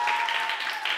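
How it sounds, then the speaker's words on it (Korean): Brief, steady clapping from a small group praising an intern during a Korean TV show segment, a short even burst of hand claps with no pauses. "박수 한번 쳐주세요"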